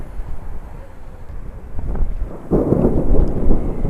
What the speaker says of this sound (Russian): Наконец-таки появился ветер.